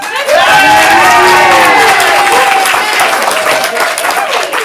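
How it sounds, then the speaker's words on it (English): Level-five applause from a comedy improv audience for the blue team captain: loud, sustained clapping and cheering from a full crowd, with whoops and shouts rising over the steady roar. "Let's get that level 5 applause for the captain of the blue team."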